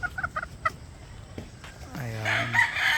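Gamefowl brood stags and hens cluck in short bursts before a rooster lets out a loud, drawn-out crow near the end, close and clear with faint background noise.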